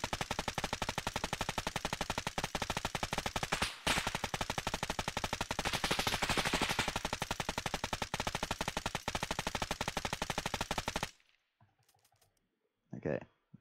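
A modded machine gun in Arma 3 firing one long, unbroken automatic burst of rapid shots for about eleven seconds, loud and close, before stopping abruptly; brief speech follows.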